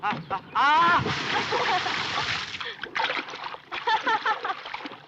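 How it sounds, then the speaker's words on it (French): A man pushed into the Seine from about four metres up in a 1967 film scene, a loud sustained splash and churning water followed by further sloshing bursts, with a voice at the start. "la cascade où le personnage de Shirley doit le pousser dans la Seine"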